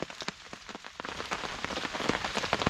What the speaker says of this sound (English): As you can hear, it's non-stop raining.